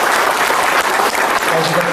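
Sustained, dense applause from a crowd at a state-level award ceremony, loud and steady throughout with no pauses.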